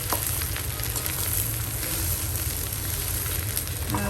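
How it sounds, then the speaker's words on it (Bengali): Rice and lentils frying in a pot for vegetable khichdi, giving a steady, close sizzle that holds evenly throughout with no talk. "আগে একটু ভেজে নিচ্ছি।"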